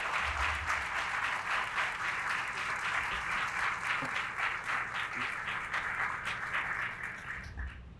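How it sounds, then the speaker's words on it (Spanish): Audience applause for a speaker at an assembly in the Dominican Republic, a steady wash of many hands clapping that holds for about eight seconds at moderate loudness, with faint voices mixed in. "Vamos a darle un aplauso al doctor Sergio Germán Medrano"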